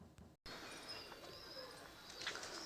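Pigeons coo softly in a small zoo at a garden resort in Satkhira, making faint, low throaty calls over a quiet outdoor background after a brief dropout.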